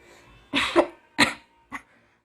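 Three short, dry coughs sound close up, the first a quick double burst, followed by two single coughs with brief pauses between.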